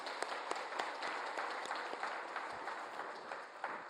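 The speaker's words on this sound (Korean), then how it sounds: "우리 부모님들이 더 건강하시도록 행복하시도록 한번 박수를 한 번 더 격려하겠습니다" A church congregation during a Korean Sunday service applauds the parents and elders, a soft, distant patter of many hands with a few sharper individual claps standing out.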